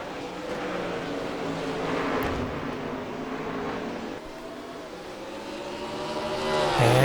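Race cars roaring in a sim racing game recreating a WeatherTech Toronto street circuit, engines running side by side in a steady, sustained drone that swells and shifts pitch near the end.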